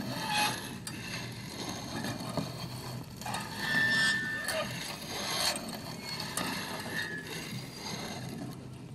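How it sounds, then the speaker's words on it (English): Piston sliding up and down inside the working cylinder of a BMW dynamic damper, giving close, dry mechanical rubbing and clicking strokes at an irregular pace over a muted background. "We can move the piston up and down in the cylinder."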